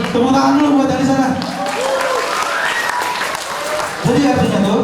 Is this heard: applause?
yes